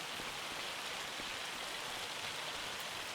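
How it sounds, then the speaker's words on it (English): Hail falls steadily in the farming video game Farming Simulator 25, a faint, continuous hissing patter with no voices. "We've got hail again."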